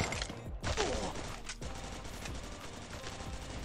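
Bursts of gunfire in the Free Fire video game, a rapid fusillade of shots near the start followed by scattered single shots, moderately loud over a busy game soundscape.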